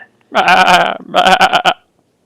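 A goat being dragged bleats loudly and close, first one long wavering cry, then a short break and a second cry broken into quick stuttering pulses, followed by silence.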